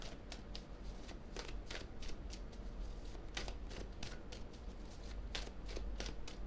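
Tarot cards being shuffled and cut, a steady run of crisp riffling snaps and soft slaps repeating through the whole stretch, close and moderately loud, with no voices.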